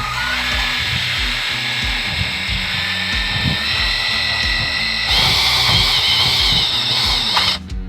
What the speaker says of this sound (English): So I'm gonna drill through it.